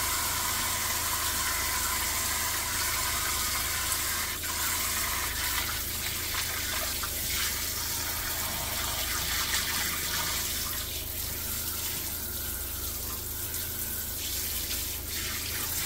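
Running tap water splashes into a sink while a fresh-caught Kenai River salmon is rinsed clean, a steady close gush with shifting splashes as the fish is moved under the stream.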